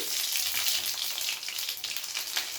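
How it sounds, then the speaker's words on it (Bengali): Panch phoron whole spices hit hot oil in a pan and sizzle in a loud, steady, close crackling hiss that carries on without a break and has no voices over it. "এবারে তেলের মধ্যে এক এক করে সমস্ত ফোড়নগুলোকে দিয়ে দেব প্রথমে দিয়ে দিচ্ছি পাঁচ ফোড়ন"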